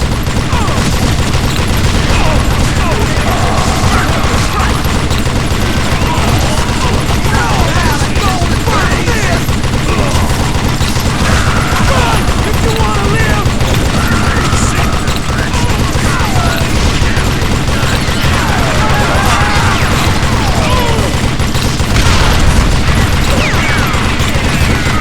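A gunfight from the Western shooter game Call of Juarez Gunslinger, with dense, loud rapid gunfire and booms layered over a constant roar of battle noise, and voices shouting intermittently.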